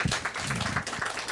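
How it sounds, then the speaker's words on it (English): Audience applause for Pastor Brake at a health talk, a steady wash of clapping from a crowd, moderately loud and close, with a faint voice underneath. "I would like to invite everyone to give another round of applause for Pastor Brake"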